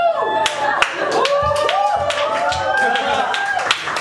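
Sharp, separate hand claps from a busking concert audience ring out in an uneven rhythm, close and fairly loud, while someone speaks over them throughout.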